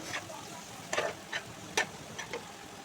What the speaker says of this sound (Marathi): कोळंबी आणि मस्त मिक्स करून घेते